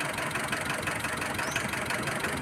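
A Mitsubishi Strada engine idles roughly with a misfire, a close, steady mechanical rumble with an uneven, knocking pulse.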